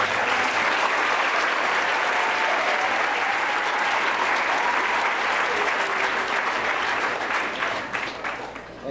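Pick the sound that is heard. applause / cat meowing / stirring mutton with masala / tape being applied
applause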